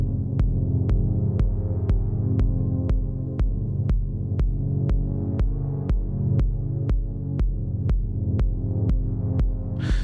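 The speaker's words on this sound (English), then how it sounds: "So now you can hear we're getting that pumping effect." A synth pad in Ableton is sidechain compressed, giving a steady, even pulse of rhythmic pumping. Each beat ducks the sustained low chord, which then swells back, repeating regularly for ten seconds.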